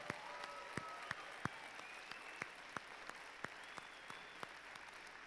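Audience applause for volunteers at a FIRST robotics opening ceremony, with steady distant clapping across the whole stretch, punctuated by a few sharper individual claps and faint whistles above.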